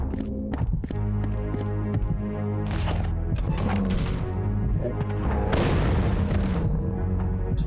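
Rocket launcher blasts and explosions in the video game Fear Effect 2, several heavy booms with crashing debris and sharp impacts scattered over a busy game soundtrack.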